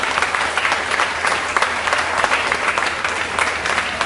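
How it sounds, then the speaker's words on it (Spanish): An audience at an ecumenical debate between pastors and a Catholic priest claps steadily in a dense, continuous round of applause that stays strong throughout, with no talk over it. "un aplauso pues para el hermano quiere exponiendo"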